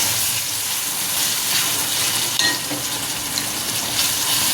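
Mixed vegetables and beans drop into a cooked onion-tomato masala for veg biryani, setting off a loud, dense, steady sizzle and hiss with a few faint stirring knocks and no talk.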